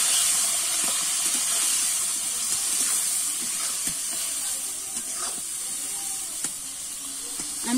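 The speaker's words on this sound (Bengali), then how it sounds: "দিয়ে কিন্তু আবার নেড়ে তেড়ে ভেজে নেবো একটু।" Tomato and turmeric fry in hot oil for a flat bean curry, giving a loud, constant close sizzle and steamy hiss with occasional light stirring clicks.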